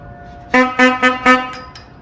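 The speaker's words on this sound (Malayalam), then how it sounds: "അതാണ് അതിന്റെ ഹോൺ അല്ലേ ഹോൺ" An 1899 vintage car's horn, displayed in a classic car museum, gives four quick bright toots close by, followed by two fainter fading ones.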